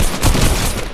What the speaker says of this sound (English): Who's over here shooting?